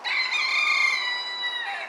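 Rooster crowing once, a sustained bright call lasting nearly two seconds, close and clear with no talking.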